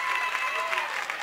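Crowd of high school football fans in a stadium cheering and urging on their team during a tense goal-line stand, a steady, loud roar of voices and applause.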